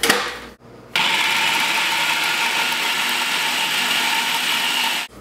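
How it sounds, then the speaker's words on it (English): A food processor blends roasted garlic hummus. A short click and a moment of quiet come first, then a loud, steady, close motor whir runs for about four seconds before cutting off. "let's go ahead and put the top on the food processor and get these mixed up a little bit"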